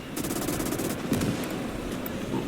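A Panzer I tank firing its machine gun in a World War II strategy video game, delivering rapid sustained bursts of gunfire at mid distance over a dense, rumbling battlefield background.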